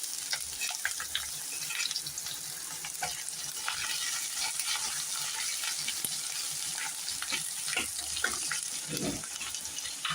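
Chopped onions frying in a pan for a cashew potato gravy, a continuous soft sizzle and crackle with occasional stirring clinks, fairly quiet with no talking.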